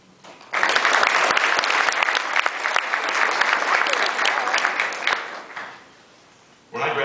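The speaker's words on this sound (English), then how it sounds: "give all the students that are here a round of applause" Sustained audience applause at a university awards banquet honoring students, a loud dense wash of clapping for about six seconds that fades out, then a brief renewed burst at the end.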